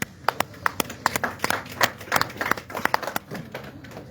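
A small audience at a political gathering claps, giving scattered, uneven handclaps that are close and fairly sparse. The claps keep up for several seconds and then thin out.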